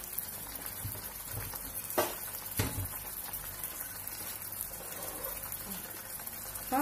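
Chicken liver frying in a pan, a faint steady sizzle with a couple of stirring knocks and scrapes.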